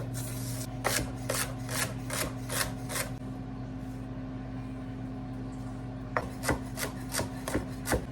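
A knife chops celery rapidly against a cutting board in a steady run of about eight strokes, pauses, then resumes with another quick burst over a low hum.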